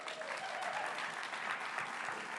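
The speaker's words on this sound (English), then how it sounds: "Give them one more round of applause." Audience at an awards ceremony applauds a winning company, a dense, steady wash of clapping from a large crowd that holds evenly throughout, moderately distant.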